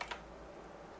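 Two quick keystrokes on a computer keyboard for a Ctrl+S save shortcut, close and crisp, then quiet.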